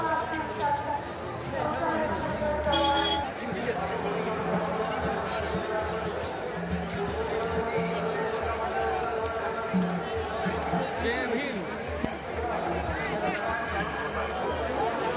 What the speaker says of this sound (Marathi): खूप गर्दी वाढतच चालले.